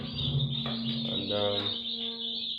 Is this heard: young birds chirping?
yes